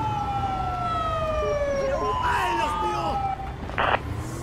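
Ambulance sirens in Grand Theft Auto V wail, sweeping up and down over a steady rumble of background noise, with a brief burst of static-like noise near the end.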